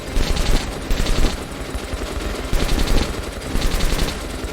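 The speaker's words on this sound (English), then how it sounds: "I got a freaking machine gun." Loud, dense automatic machine-gun fire from the video game Metro: Last Light, with several sustained rapid bursts and short dips between them.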